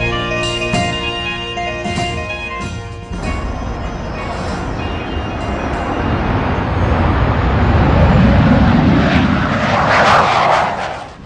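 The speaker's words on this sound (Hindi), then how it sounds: "ये जबरदस्त विमान है जो अब सक्रिय सेवा के लिए तैयार है" An LCA fighter aircraft's jet engine roars loudly, building from a whining tone into a broad, rushing blast as the jet passes close by.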